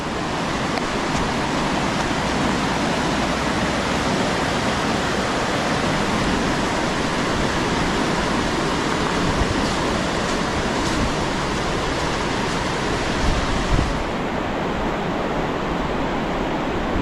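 Loud, unbroken rushing of a fast mountain river near Užice, Serbia, a continuous broadband roar that stays level throughout, as if standing right beside the churning stream.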